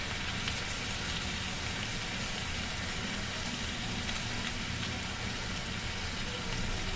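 Chopped cabbage, ginger and other vegetables sizzle steadily in hot oil in a pan, a soft continuous frying hiss with no talk.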